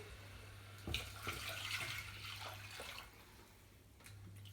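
Water is poured into a pot of tamarind rasam, a soft continuous splashing and trickling that is faint and close, set over a low steady hum.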